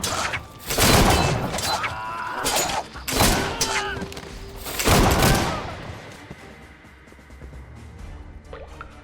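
Pistol and musket shots in the Caribbean Legend video game, including a four-barreled pistol, three loud sharp blasts with clattering tails spaced a couple of seconds apart, then a quieter fading stretch.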